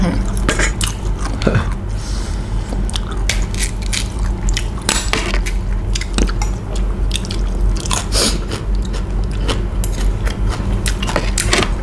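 Close, crunchy bites and chewing of food at a rural Isan-style cooking session, repeated clicks and crunches over a steady busy background, with faint voices now and then.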